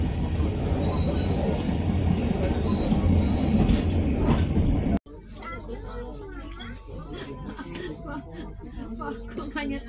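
Commuterline Garut train pulling away from a station between Ciganea and Sukatani, a steady loud rumble of rail cars and wheels heard from inside, with voices talking over it and a sudden change in tone midway.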